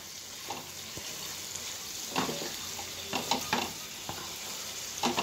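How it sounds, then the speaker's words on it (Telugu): Fresh coconut being stirred into ivy gourd curry frying in a pan, a soft steady sizzle with a few scraping spoon strokes and light clinks, fairly quiet and close. "ఆ పచ్చి కొబ్బరి వేసేస్తాను వేసి చక్కగా కలుపుకోండి పై నుంచి కిందకి ఒక్కసారి"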